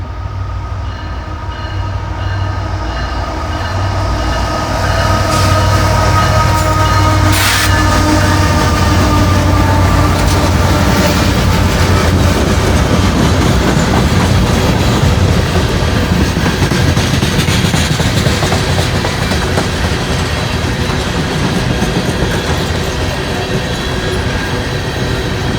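A long northbound freight train of 458 axles rolls past close by, a loud continuous rumble with wheel clatter and occasional squeal building after a few seconds, no voices.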